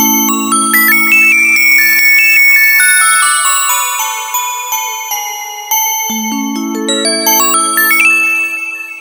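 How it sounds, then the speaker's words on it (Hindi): Bell pads tone played on a Korg PA series arranger keyboard (PA300, PA600, PA700, PA900, PA1000), bright ringing bell-like notes with long decays layered over a sustained pad chord, loud and close with no talking. "बेल पैड्स है।"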